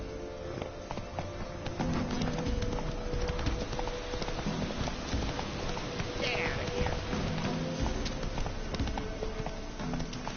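Galloping horse hooves clip-clopping steadily in The Witcher 3 video game, a continuous patter mixed with game ambience and some voice, moderately close.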